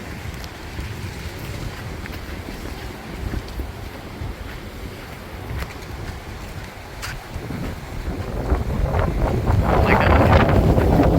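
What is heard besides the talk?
strong wind on a beach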